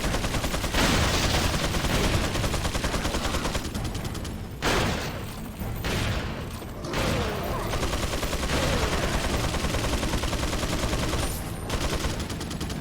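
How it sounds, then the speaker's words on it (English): A chain gun nest in Resident Evil 4 fires sustained, rapid automatic bursts, loud and close, with a few short breaks in the stream of shots. "And there's going to be yet more chain gun nests."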